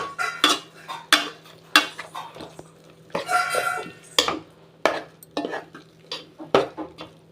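Clattering stirring in a pan while sautéing for an egg curry, a metal spoon scraping and knocking in short irregular strokes with a faint sizzle underneath.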